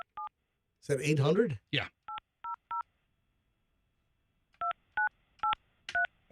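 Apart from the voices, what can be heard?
telephone keypad dialing tones (DTMF)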